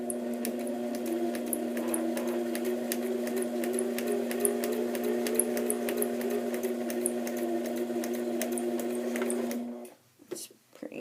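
A sewing machine stitches steadily in one long even run of rapid mechanical whirring with faint needle ticks, close by, then stops near the end and leaves a few soft clicks.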